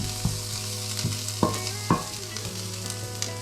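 Vegetables caramelizing in a hot pan for a creamy eggless pasta sauce give a steady, close sizzle, with a few sharp clinks and scrapes of stirring scattered through, and no talking.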